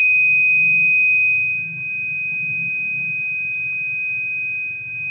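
Buzzer alarm on an Arduino UNO water project sounding a steady, loud electronic tone that holds continuously without a break, with a faint low hum beneath.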